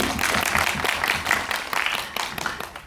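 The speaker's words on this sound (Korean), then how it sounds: "박수 부탁드릴게요" A short burst of crowd applause, dense clapping from many hands that stays steady before tapering slightly.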